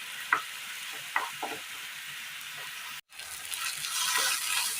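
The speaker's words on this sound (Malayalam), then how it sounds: "നന്നായി ഒന്ന് വഴറ്റിയെടുക്കണം." Tomatoes sauté in a hot pan for a Kerala beetroot dish, giving a steady close sizzle with a few soft stirring scrapes, a brief pause, then a fuller, brighter frying hiss.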